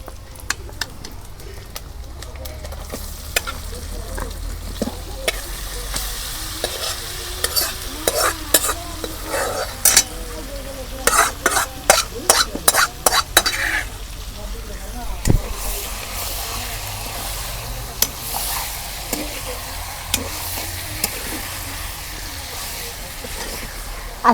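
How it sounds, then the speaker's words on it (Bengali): Chicken curry meat frying with browned onions in a pan, stirred with a spoon: a steady close sizzle with repeated scraping and clicking strokes that cluster into rapid bursts, then ease back. "আজকে আমি চামচ দিয়ে নাড়তেছি, খুন্তি নিয়ে নিই।"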